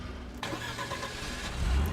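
A car engine runs steadily throughout, a loud, dense low rumble with a rougher swell near the end and no voices over it.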